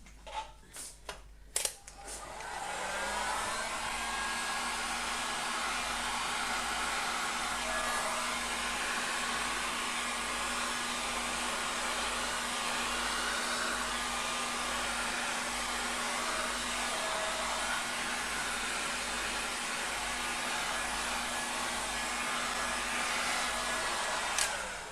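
A heat tool blows hot air over a resin mold for a bowl, a steady loud whooshing roar that starts after a few brief clicks and runs unbroken for over twenty seconds.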